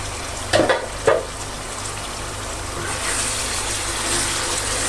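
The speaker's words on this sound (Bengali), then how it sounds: "এখন এটা আস্তে আস্তে হতে থাকুক, কষানোও হোক আর আলুটাও নরম হোক।" Potatoes cooking slowly in a pan with dried fish: a soft, steady sizzle under a couple of sharp stirring clatters near the start, then a gentle continuous frying hiss that grows slightly louder.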